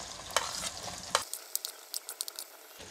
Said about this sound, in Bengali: এখন এর মধ্যে দিয়ে দিচ্ছি পেঁয়াজ কুচি